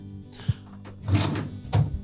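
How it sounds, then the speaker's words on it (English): A GE dishwasher door swings open during a spray arm hub repair, giving a couple of soft thunks and a latch click, moderately close, with brief handling noise between them and no talk. "So we'll open the door up."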